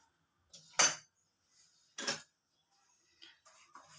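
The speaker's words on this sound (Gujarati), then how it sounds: "ચમચી ફેરવીને હલાવી લેવાનું" A spoon stirs sugar into chilled chikoo juice, clinking against the glass in two distinct, fairly close strikes followed by a few fainter taps in a quiet room.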